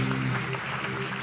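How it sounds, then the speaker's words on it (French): An audience at a startup pitch competition claps, a dense patter of applause that carries steadily through the short moment at moderate volume. "on peut l'applaudir."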